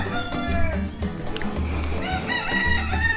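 Chickens clucking with a rooster crowing nearby on a farm visited on a tour in Colombia, steady barnyard calls continuing throughout against a busy outdoor background.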